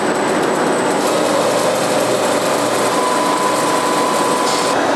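Sewing machines stitching thread for testing in a Chinese sewing-thread factory produce a loud, continuous mechanical whir with a steady high buzzing tone, close and unbroken, with no talking.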